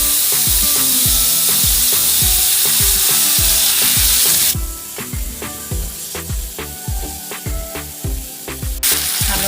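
Tomatoes hit hot oil already sizzling with bay leaves and dried red chillies; a loud, dense hiss drops to a softer, bubbling sizzle while a spoon knocks steadily and rhythmically against the pan throughout.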